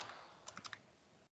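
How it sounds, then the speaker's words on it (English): Keys clatter on a computer keyboard while someone types Arabic text, a short burst of four or five quick taps close by and fairly quiet, with no talking. "So you're typing in Arabic."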